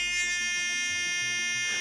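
A steady, harsh buzzing tone from a battery-powered oscillator circuit fitted with a 3300-ohm R2 resistor, rich in high harmonics, continuous and unchanging for the full two seconds at moderate loudness.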